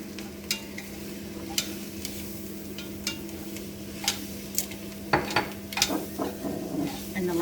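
Carrot and onions sauté in a pan with flour and herbs, giving a steady low sizzle broken by scattered ticks and clinks of a utensil stirring against the pan, busier toward the end.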